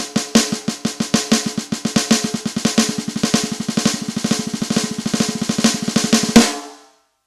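Drums play a six-stroke roll in a fast, even stream of sharp close strokes with regular accents, carrying on for about six seconds before stopping and ringing out.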